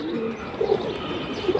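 Pigeons of several fancy breeds, kept in a loft and shown as breeding pairs, coo in low soft rolling bursts over steady background noise, with a couple of brief clusters near the middle and end.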